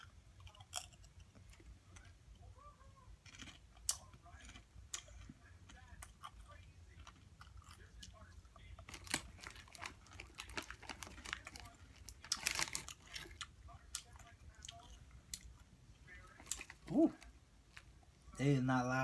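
Close, crisp crunching and chewing of Doritos Heat Wave Chipotle Cream tortilla chips, with bag crinkling and rustling, fairly quiet, ending in a burst of louder crunches.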